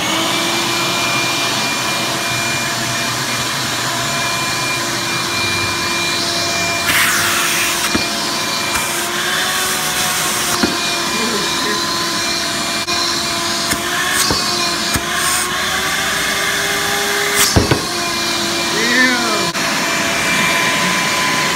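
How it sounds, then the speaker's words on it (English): A cheap vacuum cleaner runs and sucks, a loud, continuous whining roar with a steady tone, broken by occasional clunks and rattles as it pulls at objects over about twenty seconds. "It's really strong, it's really powerful vacuum."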